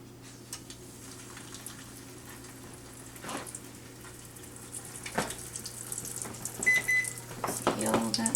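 Chicken-fried meatloaf pieces go one at a time into a skillet of hot extra virgin olive oil, and a soft crackling sizzle builds toward the end over a steady low kitchen hum.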